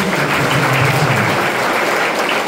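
A church congregation claps hands, a dense, steady wash of applause that runs loud and unbroken from start to finish.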